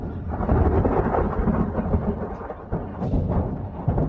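Deep rolling thunder rumbles through a storm with steady rain, loud and continuous, swelling and easing with a sharper crack near the end.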